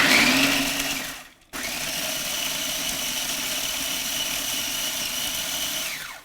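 Mixer whirring loudly as it blends stale bread into breadcrumbs, a steady high motor whine that cuts out briefly and then restarts, running continuously and close with no talking.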